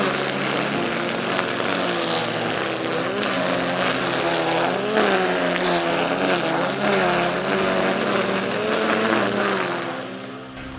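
A Parkside string trimmer cuts grass up close, a loud continuous high whine with wavering pitch over about ten seconds, tapering off at the end.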